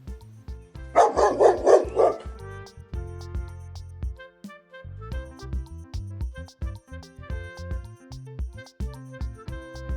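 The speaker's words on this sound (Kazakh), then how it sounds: "Иә, бұл ит." A dog barks in a loud burst of several quick barks near the start, followed by more short, scattered yips and barks, close and clear, with no talk over them.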